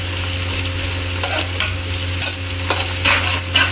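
Green and red chilies sizzle and fry in a hot pan, a steady oily crackle with a low hum beneath and several brief stirring scrapes, close and fairly loud, with no voices.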